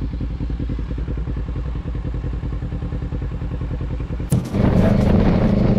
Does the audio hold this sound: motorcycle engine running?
yes